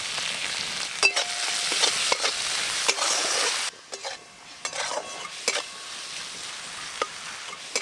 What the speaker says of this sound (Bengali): এদিকে আমি মোচায় দেব কুচো চিংড়ি, সেগুলো ভালো করে ভেজে নেব।